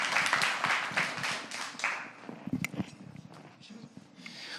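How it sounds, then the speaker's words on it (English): An audience at a marketing event claps in a brief burst that peaks early, then thins into scattered claps and fades, with some voices mixed in. "Let's give him a round of applause."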